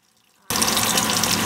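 Water abruptly starts gushing from a Zagonel Prima Touch electric faucet, a steady loud hissing flow after a half-second of near silence.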